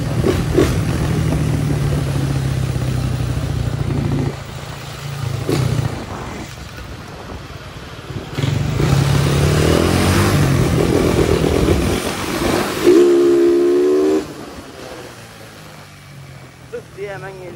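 Honda CG 150 motorcycle engine while riding through city streets, steady droning engine note with a rev rise near the end, people talking over it throughout.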